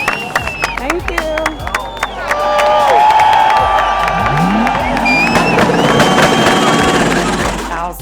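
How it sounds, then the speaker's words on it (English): A huge crowd of thousands roars and cheers at a car event during Ramadan, dense babble rising and staying loud, threaded with shrill whistles, rising and falling tonal sweeps and scattered clapping. "Thousands of people all cheering"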